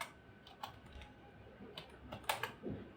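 Quiet keystrokes on a computer keyboard while code is typed, a loose run of soft clicks with small gaps and a brief faster burst near the end, heard close against faint room hiss.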